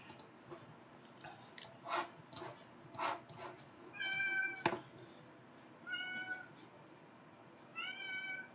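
A kitten meows repeatedly from a window, several short rising cries spaced a second or so apart, fairly close and moderately loud, with faint soft clicks between calls and no speech.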